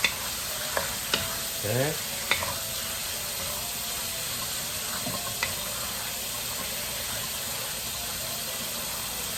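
Chicken and vegetable stir-fry sizzling in a pan: a steady hiss of frying broken by a few scrapes and clacks of stirring, with a brief spoken word near the start.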